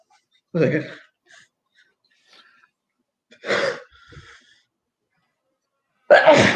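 A person sneezes close by with a sharp burst and then a second one seconds later, separated by quiet breaths and small vocal noises.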